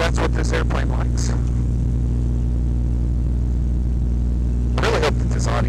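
The Franklin 220 engine of a Super Stinson 108-1 airplane runs at a steady idle, a constant low drone close by, with brief clipped voices over it at the start and end.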